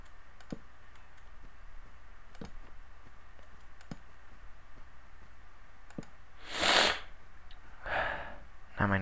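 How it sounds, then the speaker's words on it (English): A person sneezes close to the microphone twice, once loudly and then a smaller one, after a stretch of soft scattered clicks and quiet breathing, with no words spoken. "Now my nose is running that I sneezed."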